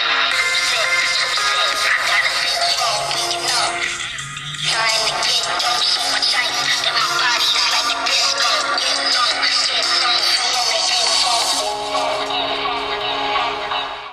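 Music played through the single bottom speaker of a Samsung A05 budget phone, sounding muffled and echoey, steady and fairly loud with a brief dip partway through.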